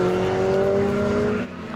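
A 500cc race car slides around the hairpin at a Kirkistown race meeting, its loud engine note mixed with tyre squeal, close and brief, then dropping off near the end.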